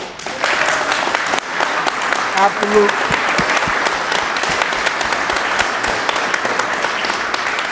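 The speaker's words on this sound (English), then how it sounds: "let's give a round of applause to Julian" An audience at a live debate on plastic-to-fuel in Chicago applauds, a steady spread of clapping that runs throughout, with a voice speaking over part of it.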